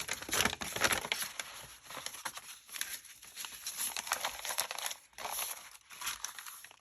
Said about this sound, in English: So we're just going to fold it back this way.